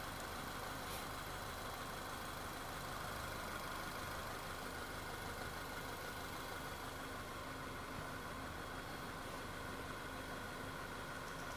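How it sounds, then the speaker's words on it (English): A warming-up car engine idles at a steady, low rumble during auto calibration, constant and unchanging from start to finish with no voices over it. "now engine is heating up"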